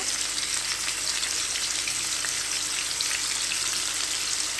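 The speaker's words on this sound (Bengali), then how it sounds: "এখন মাছ দিয়ে দিচ্ছি একটা একটা করে মাছ দিয়ে দিচ্ছি ভাজার জন্য" Rui fish pieces frying in hot oil in a pan, an even rain-like sizzle with fine spatters, close and steady throughout, with no talking.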